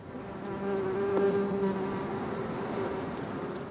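Honey bees swarm around urban hives in Paris, a steady, droning buzz that holds close and continuous for several seconds with no voices.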